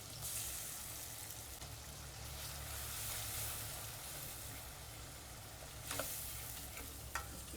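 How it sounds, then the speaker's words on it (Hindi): An onion, tomato and Kashmiri red chilli masala paste fries in hot oil, giving off a continuous dense sizzle with a low rumble underneath. A couple of sharp stirring scrapes come near the end. "तेल में मसाले में पहले भून लूंगी मैं अच्छी तरह से।"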